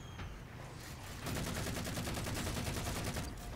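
Rapid gunfire in Halo 4 Spartan Ops, where a beam rifle is among the weapons, rattles as a dense, steady burst that grows louder after the first second and continues near and loud to the end.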